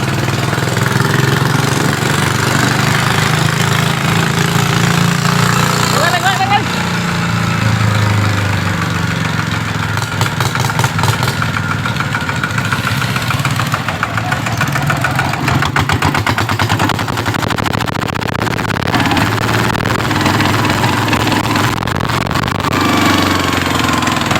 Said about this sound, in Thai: รถไถแต่งซิ่งครับพร้อมจะออกตัวแล้วครับผม